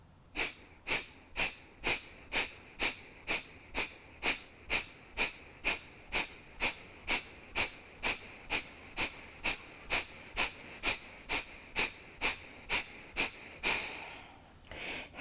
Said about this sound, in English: We're going to do some Kapalbhati breathing. It's going to be 30 rapid cycles.